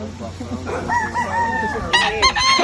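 A rooster crows once nearby, a drawn-out call, followed by a few sharp, loud clucks.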